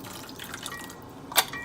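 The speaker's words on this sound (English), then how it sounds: "We're gonna add a little bit of pickle juice." Pickle juice splashing into vegan buffalo sauce in a kitchen: a soft, brief liquid splash and drip standing out over quiet background hiss, close by.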